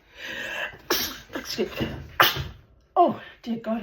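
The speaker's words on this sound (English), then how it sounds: "What a time to sneeze." Someone speaks, then a single loud sneeze bursts out midway, followed by more talking close to the microphone.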